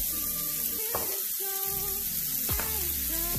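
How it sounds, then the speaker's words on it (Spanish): Vegetables and garlic sauté in a pan with a continuous bright sizzle, and a couple of sharp taps and scrapes from a utensil come through over the frying. "voy a saltear hasta que estén bien cocidos mis vegetales"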